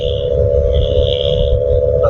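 A vehicle fitted with a changed silencer drones with a steady, tractor-like engine hum and rumble, loud and continuous from start to end, with no talk over it.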